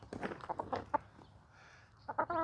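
Backyard hens clucking up close in quick, excited bursts during treat time, with a brief lull before more chattering clucks and a squawk.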